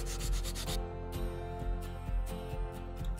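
A carved wooden star is rubbed with 120 grit sandpaper, giving repeated scratchy back-and-forth strokes at a steady rhythm, close and moderately loud, with no voices.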